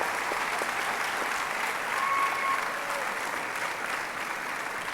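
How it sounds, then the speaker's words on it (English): Graduates at a university commencement applaud their parents and guardians; a steady, fairly soft wash of clapping from a large gathering, heard from some distance and lasting throughout. "give an appreciative round of applause to your parents and your guardians"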